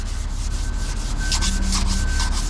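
A block is sanded back and forth along a body line on a car panel, giving a loud, close, continuous rasping rub with rhythmic strokes and no talking.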